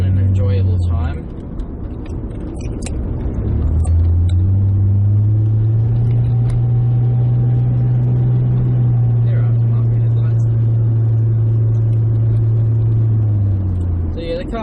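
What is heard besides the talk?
Nissan Skyline R31 engine and exhaust drone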